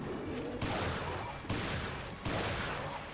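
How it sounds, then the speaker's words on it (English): Video game combat in Resident Evil Revelations Raid Mode, with shot grenades and shotgun blasts: loud, dense rolling gunfire and explosions, a few heavier bursts standing out over a constant din, no speech. "keep on throwing shot grenades and shooting them with your shotgun"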